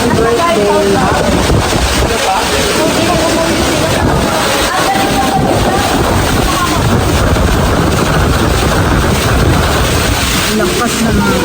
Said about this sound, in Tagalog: Lakas ng grabe sa hangin. Grabe ang lakas.